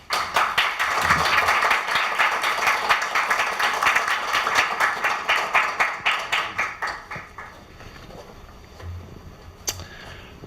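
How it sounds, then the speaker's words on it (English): Audience at a university business school partnership celebration applauding to welcome a speaker: dense clapping that thins into a rhythmic unison beat, then fades to scattered claps and near silence. "Please welcome him with a round of applause."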